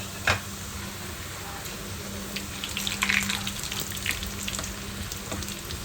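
Garlic and dried curry leaves frying in a pan, a steady low sizzle running throughout with a few brighter crackles and pops, close and moderately quiet.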